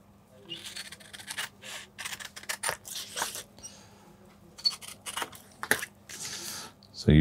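Scissors snipping through shirt pattern paper during bespoke pattern drafting at a London shirtmaker's, heard as short close scratchy cuts and paper rustles separated by brief pauses.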